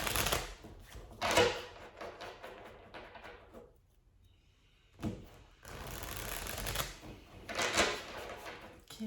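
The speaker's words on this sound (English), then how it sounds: "I need to shuffle." Tarot cards being shuffled by hand, brisk papery riffling in several bursts with a short quiet pause midway, close and fairly soft.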